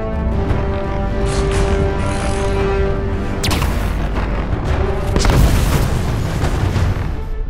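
Deep booming blasts of Transformers ship cannon fire roll out over a dense, rumbling battle din, with a couple of heavy explosions standing out.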